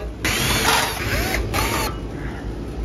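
A power drill whirs steadily with a ratcheting mechanical buzz, loud and close, pitch shifting as it spins out 5/16 screws from a panel on an air conditioner condensing unit.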